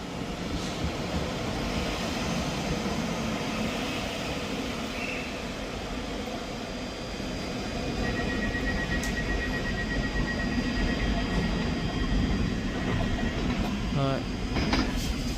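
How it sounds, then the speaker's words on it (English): A ScotRail service pulls away from a platform at Edinburgh Haymarket station, giving a steady rumbling roll of wheels and engine that swells slightly partway through, with a thin high whine, clicks near the end and a station announcement voice over it. "Departing out now is the 1017 Scotrail service from Edinburgh Waverley to Manchester Airport."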